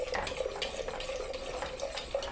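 Plain water pouring steadily into a thick chipotle chili paste, a continuous close splashing trickle with no pauses; no voice over it.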